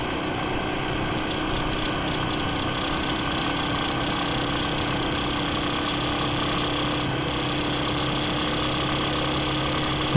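Yamaha XT250 dual-sport motorcycle riding along a country road, a continuous close engine drone and wind rush at a steady moderate speed, with brief ticking clicks near the start.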